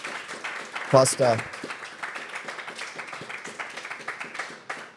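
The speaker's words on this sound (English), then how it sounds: "Ladies and gentlemen, put your hands together for" An audience at a church book launch claps with a sharp burst, then keeps up lighter scattered clapping while someone speaks over it.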